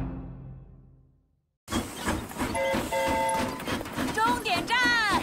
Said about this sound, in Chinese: 那是戴芬坐的火车